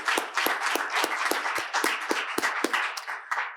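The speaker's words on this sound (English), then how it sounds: "Let's give her another round of applause." An audience claps for a young performer at a panel event on family and society, a fairly sparse round with distinct individual claps standing out, moderately loud and steady before tapering slightly near the end.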